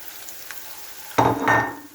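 Hard spices dropped onto browning onions in a pan for an Indian takeaway curry sauce set off a sudden loud, close sizzle that follows a quiet stretch and holds as a crackling hiss.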